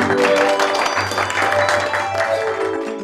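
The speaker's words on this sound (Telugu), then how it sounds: "మనందరం చప్పట్లు కొట్టి వారిని ఆహ్వానిద్దాం" An audience claps to welcome Pastor Madhu at a doctorate certificate presentation, a dense burst of loud, close applause that holds steady for a few seconds and then begins to thin out.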